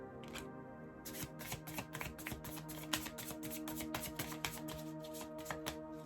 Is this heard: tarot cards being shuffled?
yes